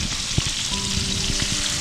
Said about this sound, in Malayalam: ഏകദേശം ഫ്രൈ ആയി വന്നിട്ടുണ്ട്.